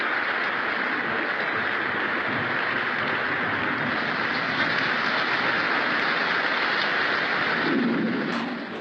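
Steady rain pours down, a dense continuous hiss that holds evenly throughout, with a faint low rumble swelling briefly near the end.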